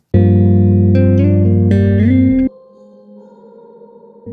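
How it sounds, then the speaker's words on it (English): A sustained guitar chord swells and shifts pitch, then decays into a high, airy shimmering reverb tail that lingers before a new note starts. "I have a guitar being sent to 1 shimmer right here."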